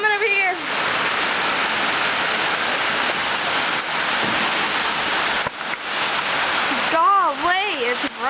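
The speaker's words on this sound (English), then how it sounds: "Golly, it's raining." Heavy rain pours outdoors in a steady, loud hiss that fills the scene, with voices talking and exclaiming over it and a brief break in the middle.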